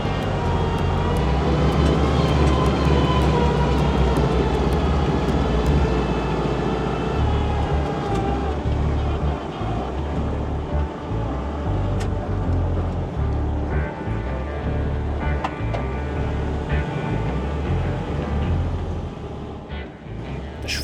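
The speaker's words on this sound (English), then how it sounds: "The Schwimmwagen is running like a beauty." WWII-era Volkswagen Schwimmwagen amphibious car engine running steadily while driving, a loud continuous low droning hum with gear changes, close and without talk throughout.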